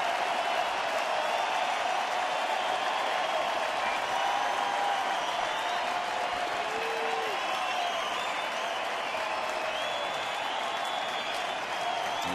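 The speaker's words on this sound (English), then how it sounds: "The crowd trying to get Valverde to close this out" A baseball crowd at a Detroit Tigers home game against Kansas City cheers and claps steadily as the closer tries to finish the game, a dense roar of applause that keeps going throughout.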